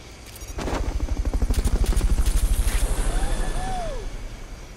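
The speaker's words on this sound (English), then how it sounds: "Fulton recovery helicopter is complete." Fulton recovery helicopter in the video game Metal Gear Solid: Peace Walker, a steady rhythmic rotor chop rising in after half a second and holding loud for several seconds, with a brief whistling tone near the end.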